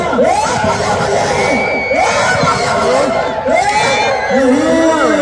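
A large crowd at an outdoor wrestling match cheers, whoops and shouts continuously, with children's yells rising above a dense roar and a commentator's voice mixed in.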